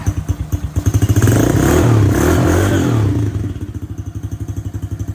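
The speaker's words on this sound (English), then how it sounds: "And that starts the engine." Small quad ATV engine, already warmed up, cranking with rhythmic pulses before catching and roaring up, then settling into a steady, close, loud idle with regular thumping beats.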